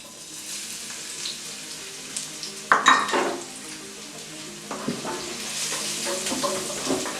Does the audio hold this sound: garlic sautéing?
yes